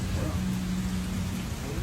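Steady rain pours down outdoors near trees in a constant, loud hiss, with a low rumble underneath and no clear voices.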